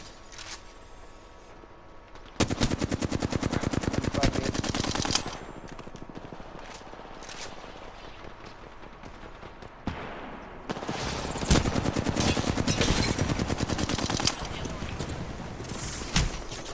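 Gunfire from the video game Apex Legends, with long bursts of rapid automatic shots in dense strings that stop and resume, over a quiet game background.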